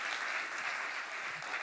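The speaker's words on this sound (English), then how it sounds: "I suggest a round of applause for everyone who's attending" An audience at an AI workshop claps steadily and densely throughout, a brief, close, even wash of applause with no pauses.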